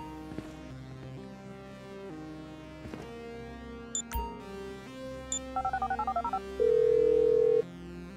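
Phone keypad tones being dialed in Grand Theft Auto 5: a quick run of short beeps, then a longer steady tone, heard over a low game score and ambient rumble.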